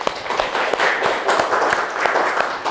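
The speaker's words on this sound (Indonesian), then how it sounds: "tepuk tangan dong" A small group in a classroom or lecture setting claps hands together, a short burst of uneven claps at moderate loudness, with a few distinct slaps rising above the patter.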